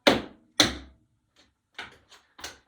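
Sharp tap-shoe strikes on a hard floor: two loud hits, then a lighter quick sequence of steps in an uneven rhythm, close by.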